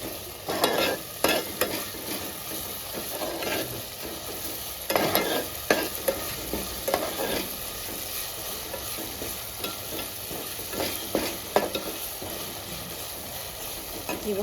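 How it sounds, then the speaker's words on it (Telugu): Masala for a brinjal and potato curry fries in a pan, a continuous soft sizzle broken by repeated scraping and clattering stirs of a spoon against the pan, fairly faint and close. "మసాలా పచ్చి వాసన పోయేంత వరకు బాగా ఫ్రై చేసుకోవాలి."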